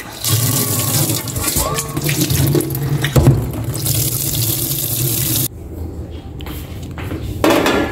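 Cooking pot being filled with water from a kitchen tap for pork, a loud steady splashing rush that stops abruptly, followed by faint clinks and a brief burst of water.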